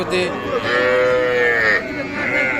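Calves and young heifers lowing at a weekly cattle market in Ghoraghat, Dinajpur, with one long, close, drawn-out moo followed by shorter calls from nearby animals and a faint background murmur.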